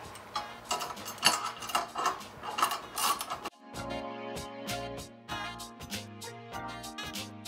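Bolts being tightened on a receiver base assembly give off a close, quiet string of ratcheting clicks and metallic ticks, rapid and repeated, with no one talking.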